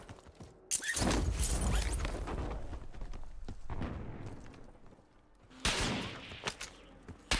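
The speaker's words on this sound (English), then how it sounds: "who's shooting at me?" Gunfire erupts in a video game: bursts of loud, close rapid shots around the first second, trailing off into scattered cracks and echoes, then another heavy volley near the end.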